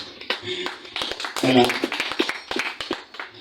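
A church congregation claps along at an apostle's service, quick irregular hand claps rising and falling over several seconds, mixed with voices and a brief louder burst midway.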